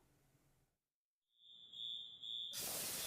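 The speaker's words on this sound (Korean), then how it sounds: "화재 경보와 함께 드라이아이스 상태에 이산화탄소가 뿜어져 나오는 소화 설비." Fire alarm tone sounds as a carbon dioxide fire suppression system discharges dry-ice-cold gas, a steady high alarm whine followed by a loud sudden rushing hiss that fills the room.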